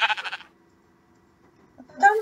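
Sheep bleating in a video game: one short bleat at the start and another near the end, separated by a quiet pause.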